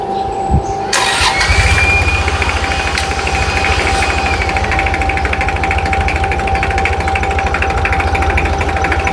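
Small Isaki boat engine, three-cylinder diesel of about 33 hp, is cranked on a 12V battery. It fires quickly and settles into a loud, close, steady chugging idle with no voices.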